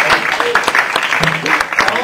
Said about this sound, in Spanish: Con ustedes, un aplauso, por favor.